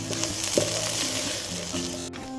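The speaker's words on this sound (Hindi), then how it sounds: "शिमला मिर्च जो है वो कुक हो रही है, सॉफ्ट हो रही है" Bell pepper stuffing for a chicken bread cheesy roll, frying in a pan over low flame and being stirred, giving a steady close sizzle with occasional utensil scrapes.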